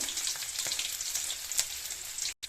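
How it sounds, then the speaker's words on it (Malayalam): Chopped onions sizzle softly in oil with already-popped mustard seeds, a faint, steady frying hiss with a few small crackles and a brief stir, no voices. "അപ്പോൾ നമ്മൾ അരിഞ്ഞ് വെച്ചേക്കുന്ന ഉള്ളിയും കൂടെ അതിനകത്തേക്ക് ഇട്ടു."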